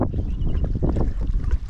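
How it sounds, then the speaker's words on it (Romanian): Gusty wind buffeting the microphone at a fishing lake, a low rumbling roar that swells and dips in irregular bursts, close and fairly loud, with no other sounds standing out. "Tot bat rafale de vânt"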